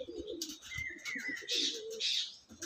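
A young male Andhra pigeon, son of the Madara, calls at a pigeon sale, low cooing phrases mixed with brighter chirps and hiss, faint and close, with no talk.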